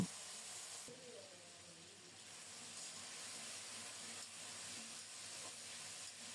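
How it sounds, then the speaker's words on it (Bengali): Spice tempering, radhuni seeds among them, fries in oil in a pan for a kochu stolon and fish-head curry, giving a soft, steady, faint sizzle that runs through the whole stretch. "নেড়ে চেড়ে ফোড়নটাকে একটু লাল লাল করে ভেজে নেব।"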